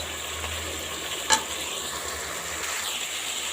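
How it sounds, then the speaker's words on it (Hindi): Keema mixture being stirred in a frying pan gives a steady sizzle with soft scraping, broken by one sharp metallic clink from a utensil against the pan, close and alone. "इस तरीके से हम इसको कर लेते हैं अच्छे से मिक्स।"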